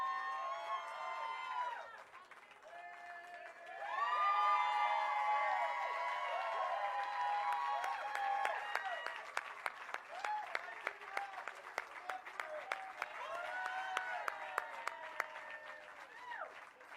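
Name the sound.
crowd applauding at Walk of Fame ceremony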